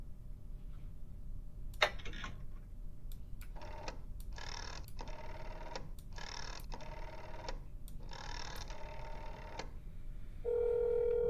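A phone rings out on a call in the horror game That's Not My Neighbor, repeated short trilling bursts in a steady pattern over a low background hum, ending in a sustained tone, with no talking.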